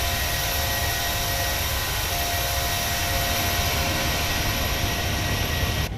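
PMDG Boeing 737 climbing after takeoff in Microsoft Flight Simulator, a steady, loud jet engine roar with a constant whine held throughout before cutting off abruptly at the end.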